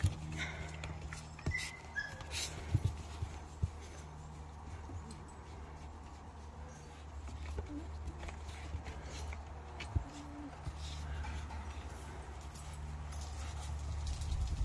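A young, large-breed dog at a kennel whimpering in short, faint whines amid rustling, cage clatter and scattered footsteps, with occasional sharper knocks nearby.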